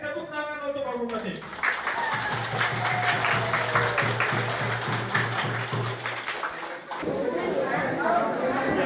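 Crowd applause at a regent's visit to Towe Hitam district, a burst of clapping that rises and fills a few seconds, with chatter and voices running underneath.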